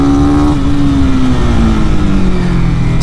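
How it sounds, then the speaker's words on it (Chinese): A Honda CB300R single-cylinder motorcycle downshifting with a throttle blip, a loud close engine roar whose pitch sweeps smoothly downward over about three seconds. "退档补油的声音也很好听"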